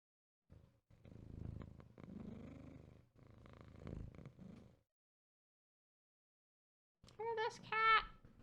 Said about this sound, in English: Hear this cat? Totally the same.